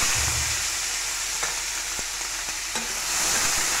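Chopped onions hit hot oil in a pan for Katla fish do-pyaza curry, giving a loud, steady sizzle up close, with a few faint ticks of stirring and no voices.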